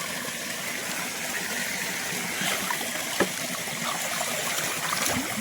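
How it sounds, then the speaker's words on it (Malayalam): A piece of bamboo being washed in water: a steady trickling, flowing wash with occasional small splashes and knocks, fairly close and continuous without talk. "ഇനി എടുത್ത് നേരെ വെള്ളത്തിലേക്ക് ഇട്ട് കഴുകണം"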